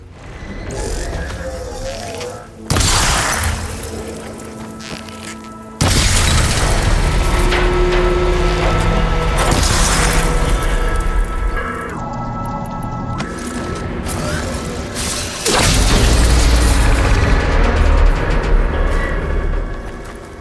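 Heavy booming impacts and crashing blasts as a machine's arm coupling is shot in Horizon Forbidden West, arriving in several loud bursts over a dense game soundtrack of rumbling and mechanical clatter.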